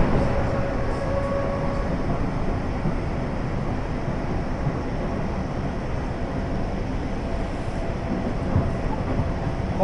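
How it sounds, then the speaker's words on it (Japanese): A train pulling into Nagoya Station makes a steady, loud interior rumble with a dense, even roar and occasional faint clicks, with no voices. "まもなく名古屋駅到着いたします。"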